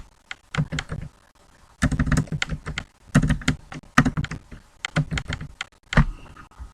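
A web page title is typed on a computer keyboard in quick clusters of crisp, close keystrokes with short pauses between words, loud and clear with no talk.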